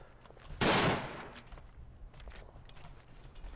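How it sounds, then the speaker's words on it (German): A single sharp rifle shot in the game Verdun, rifle deathmatch mode, bursts out loudly, then fades into a low, rumbling background with faint scattered noises. "Ich höre die ganze Zeit Schüsse, aber ich sehe keinen."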